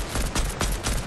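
Rapid gunfire in the video game Fortnite comes as a dense, steady burst of repeated loud shots across about a second, with no voices over it.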